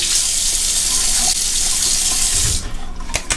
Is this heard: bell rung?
no